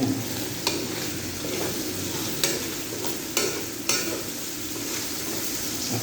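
Bitter melon and egg fry in a pan under a constant sizzle, with repeated spatula strokes and scrapes clicking against the pan at an irregular pace.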